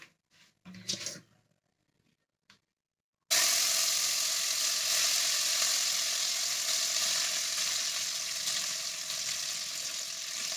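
Chicken pieces hit a hot pan with whole garam masala and begin frying, a few soft clinks and handling sounds, then a sudden loud sizzle that continues steadily and close.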